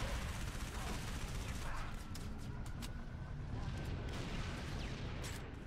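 Gunfire and plasma weapon shots in a Halo ODST firefight against a Wraith tank, a dense continuous barrage of bursts and blasts throughout, with voices faintly mixed in.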